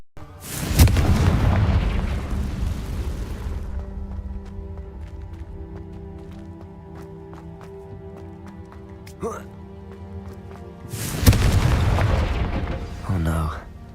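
Two heavy, booming spell blasts from the Confringo curse in Hogwarts Legacy, one at the start and one near the end, each a loud burst fading into a rumbling tail over a steady game music bed.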